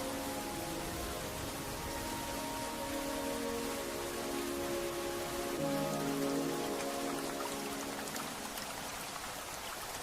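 Steady rain falling on a surface, a dense continuous patter with soft droplet detail and a hissing wash, even and unbroken throughout with no voices.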